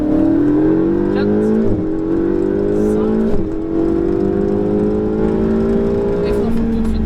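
A Ferrari 488 GTB accelerating hard on a race track, its engine note climbing steadily through rising pitch with brief dips at gear changes, loud and close from inside the car, with a voice talking over it.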